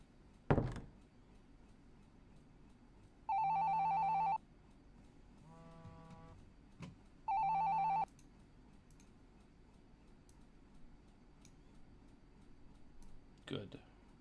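A phone rings twice in the video game Shadows on the Vatican Act 1: Greed, two loud electronic bursts about a second each with a quieter ring between, set among faint clicks and a sharp knock at the start.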